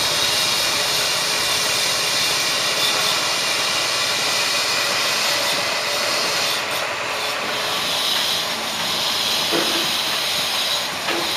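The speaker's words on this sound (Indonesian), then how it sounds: "mesin pemotong batunya" A stone cutting machine at a craft workshop on the slopes of Mount Ciremai gives off a loud, continuous, hissing grind that holds steady throughout without pause.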